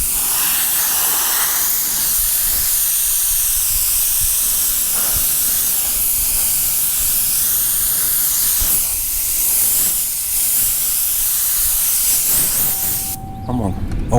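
Compressed air blows off a Trailblazer ahead of sanding and a three-stage pearl paint job, a loud, steady hiss running nearly continuously before cutting out near the end.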